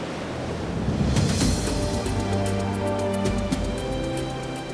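Ocean waves wash and churn around adventure racers at sea off Morocco, a steady loud surf roar with wind gusts on the microphone and a low boat-like hum underneath.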